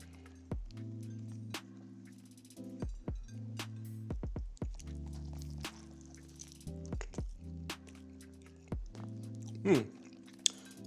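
Close, quiet chewing of a smash burger cooked on a 28-inch Blackstone griddle, with repeated wet, squishy bites and mouth sounds in a steady rhythm, no talking.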